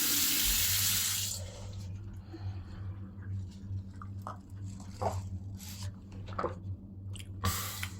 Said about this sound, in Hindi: टैप खोलो, थोड़ा सा पानी गर्म से ठंडा हो जाए